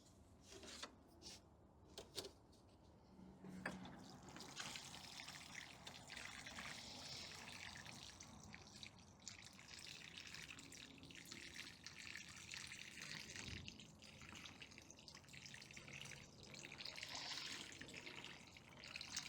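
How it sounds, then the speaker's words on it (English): Water poured from a container onto a blueberry plant newly set in a pot of soil, a steady trickling and splashing stream that keeps going at moderate level, close by, with no talking. "So let's water it."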